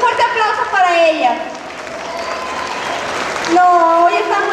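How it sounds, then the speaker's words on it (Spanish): Applause from an audience at a cultural centre festival event runs for a few seconds, mixed with an amplified voice speaking over it and a steady crowd wash underneath. "A ver, un fuerte aplauso para ella"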